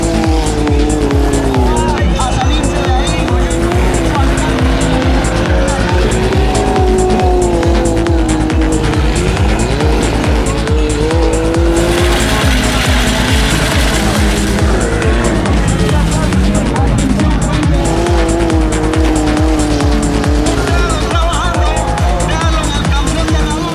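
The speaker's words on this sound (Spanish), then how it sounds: "Disfrutemos de la adrenalina del Speed Cross, todo lo que sucede con estos autos en la pista." Speed cross race cars, including a Honda Civic, run on a track with constant loud engine roar and squealing tires. A commentator talks over the noise.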